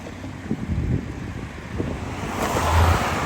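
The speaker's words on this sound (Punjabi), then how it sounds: "ਸਪੀਡ ਬਹੁਤ ਆ ਪਾਣੀ ਦੀ" Fast-flowing river floodwater rushes past in a steady, broadband roar, with wind buffeting the microphone and the flow swelling slightly louder toward the end.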